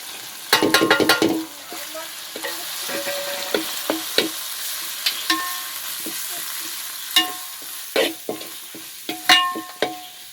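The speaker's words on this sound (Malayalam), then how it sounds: "അപ്പം അതിക്ക് നമ്മൾ ഈ പൊടികളൊക്കെ ചേർത്ത് കൊടുക്കാം കേട്ടോ." Spice powders sautéing with softened onion, tomato, ginger and garlic for a chicken curry: a low sizzle underneath repeated sharp clanks and scrapes of a ladle stirring against the pot, close by.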